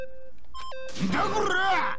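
A few short electronic beeps ring out in the Danganronpa video game, then a voice follows immediately.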